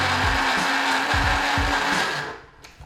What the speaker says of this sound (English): Gonna blend this up until it's completely smooth